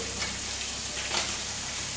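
Chicken pieces fry lightly in a pan with a steady, close sizzle and a brief swell of crackling partway through, with no voices.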